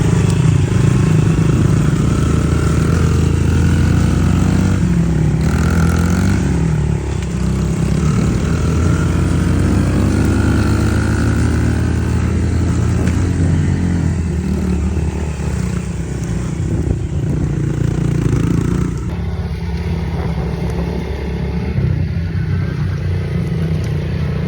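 Pit bikes ride through the bush with a loud, continuous engine drone that rises and falls in pitch as they rev and shift, with no break across the whole stretch.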